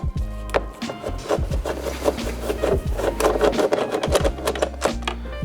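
Two T30 bolts being unscrewed from a VW T6.1 door card, with steady close grinding and scraping of a tool turning against metal, plus low rumbling hum running underneath throughout.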